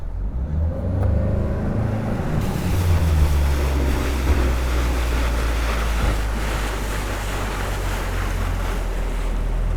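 A fishing boat motors across a lake in fall, engine droning low and steady beneath constant splashing water and heavy wind buffeting the microphone, with no one talking.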